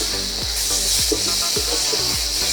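Spices and tomato puree sizzle steadily in a hot pan for Bengali katla fish kalia, with repeated scraping strokes of a spoon roughly every half second as the mixture is stirred.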